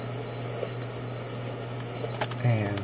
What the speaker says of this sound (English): There are crickets.